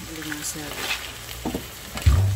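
Halved crab goes into a pan of hot oil with ginger, giving a soft, low sizzle with a few light clatters and a thicker burst of frying near the end.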